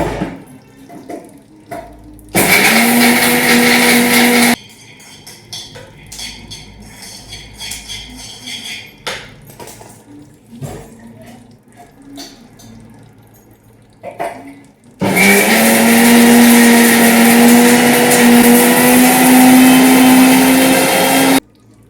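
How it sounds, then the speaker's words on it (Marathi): A mixer grinder whirs loudly in two long bursts as it grinds black sesame with garlic, red chilli and salt. Quieter handling noises fill the pause between the bursts. "हे आता मिक्सरला फिरवून घेऊ."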